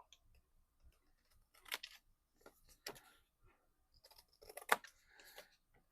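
Long 9.5-inch scissors cut paper for a Halloween card in a quiet room, with several short, crisp snips and soft rustles spaced apart.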